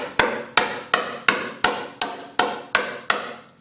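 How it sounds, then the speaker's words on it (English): Nine sharp metallic hammer strikes on welded Miata body metal in an even, quick rhythm, each ringing briefly before the next blow lands. "the hammer bounces right off"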